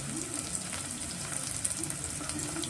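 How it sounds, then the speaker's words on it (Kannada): Slit green chillies and ginger garlic paste fry in a pan for Hyderabadi chicken dum biryani, a brief, even, moderately quiet sizzle. "ಸ್ವಲ್ಪ ಫ್ರೈ ಆದಮೇಲೆ ಇದಕ್ಕೆ ನಾನು ಶುಂಠಿ ಬೆಳ್ಳುಳ್ಳಿ ಪೇಸ್ಟು ಸೇರಿಸ್ಕೊತಾ ಇದ್ದೀನಿ"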